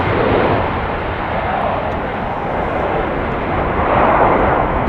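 An ITA Airways airliner takes off from runway 36L at Amsterdam Schiphol in showery, windy weather, a steady loud broadband jet roar that holds throughout and swells slightly near the end.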